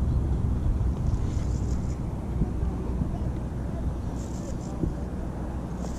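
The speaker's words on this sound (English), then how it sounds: "it's kind of windy" Steady wind rushes and buffets the microphone outdoors while fishing, a constant low roar throughout with a faint water or boat hum underneath.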